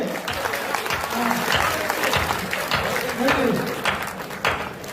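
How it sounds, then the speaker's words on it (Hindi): Audience applause at a Hindi comedy poetry gathering, a steady wash of many hands clapping, moderately loud and sustained for several seconds, with some voices mixed into the crowd noise. "इसलिए आप तालियां थोड़ी सी जोरदार बजाइए।"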